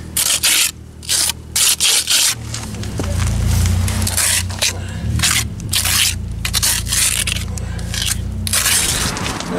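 Trowel scraping plaster onto an old, wetted stone step during repair, with repeated short rough scrapes and pauses, then a longer continuous rubbing stretch, close and without talk.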